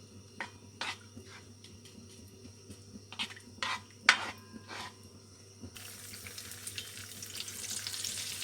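Ginger garlic paste frying in a pan for mutton qorma, a quiet sizzle with several sharp stirring scrapes, then a broader, louder hiss building over the last few seconds, close and without talk.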